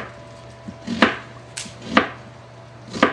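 Knife chopping pork into chunks on a cutting board for a Dutch oven chili verde, with three or four crisp, close chops at roughly one-second intervals.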